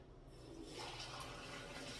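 Water from a tap runs steadily into a container for Korean seafood pancake batter, a close, continuous rushing flow that swells after a moment and then holds.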